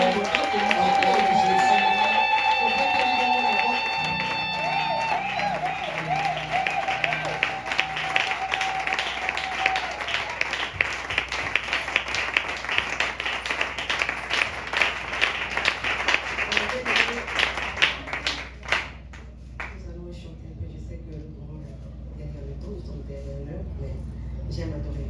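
A church congregation applauding and cheering in welcome of Reverend Augustine Malanda, a long burst of crowd clapping with rising voices and rhythmic claps that builds, then breaks off sharply near the end, with a voice speaking over the start.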